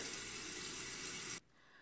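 Water runs steadily over braided hair in a continuous close hiss and splash, then cuts off abruptly partway through, leaving quiet.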